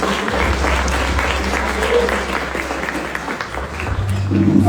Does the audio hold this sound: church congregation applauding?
yes